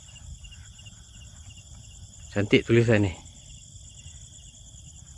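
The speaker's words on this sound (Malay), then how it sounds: "boleh dengar bunyi cengkerik" Steady high-pitched cricket chirping fills the night air at Kota Lukut, Port Dickson, continuous and even, with a brief spoken remark partway through.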